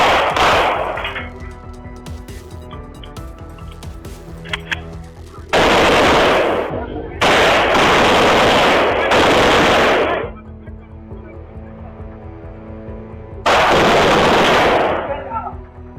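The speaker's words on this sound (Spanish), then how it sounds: "la tranquilidad del exclusivo barrio del Paseo de la Reforma se quebró con el estruendo de más de 400 disparos" Bursts of heavy automatic gunfire, hundreds of shots from a dawn cartel ambush in an upscale Mexico City district, come in loud dense volleys separated by quieter stretches of background rumble.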